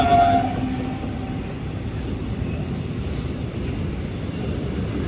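A goods train rumbles past a level crossing at night, a loud, continuous rolling roar with a brief high horn or squeal near the start.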